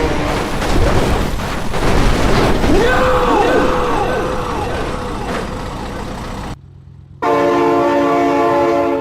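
A train in the BeamNG driving game sounds its horn in several loud, sliding blasts over heavy rumbling engine and rail noise, then after a brief cut a sustained horn tone returns at full volume.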